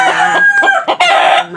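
A rooster that recently had its spurs trimmed crows loudly and close by, breaking into short clucks between calls, with no other sounds around it.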